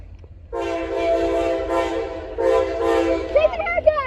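A pair of ACU locomotives pass close by, sounding a long, loud multi-tone horn with a brief break in the middle, and rail noise rumbles underneath before the horn trails into short squeals near the end.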